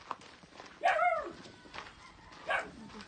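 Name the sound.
dog barking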